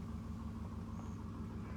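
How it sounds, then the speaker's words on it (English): A 1990 Mazda Miata with a loud aftermarket exhaust idles nearby, a steady low throbbing rumble with no talk. "he comes home one day with this loud exhaust"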